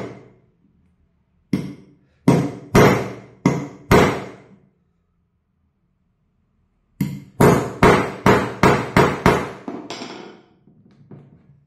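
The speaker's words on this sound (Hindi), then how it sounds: "ये पंच की मदद से मैं इस कील को थोड़ा डाउन करूंगा" A nail being driven down with a metal nail punch and hammer during carpentry work: five sharp, ringing strikes, a pause, then a quicker run of about eight blows that gradually soften, each metallic hit loud and close with nothing else heard.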